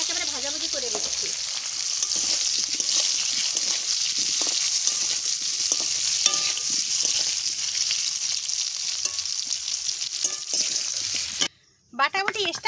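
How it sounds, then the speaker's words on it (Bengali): Potatoes fry and get stirred in oil rendered from fish, a steady loud sizzle with scraping stirs running throughout, briefly cut off near the end before resuming. "আলুটা ভাজা করে তুলে রেখে দেবো, এই জন্য এই তেলে একেবারে ভাজাভুজি করে দিচ্ছি।"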